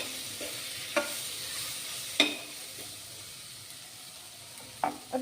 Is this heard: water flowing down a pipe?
no